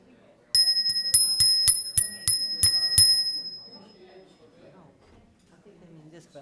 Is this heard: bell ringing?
yes